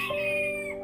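A bantam hen, a dwarf chicken, gives a short, clear, tonal call, close and fairly quiet, lasting under a second.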